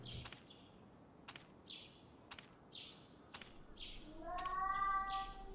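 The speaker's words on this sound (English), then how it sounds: "It's that scary ass cat again." Eerie cat-like cries in a spooky video game, a series of short descending calls repeating about once a second over a low ambient drone, ending in a rising, sustained tonal wail.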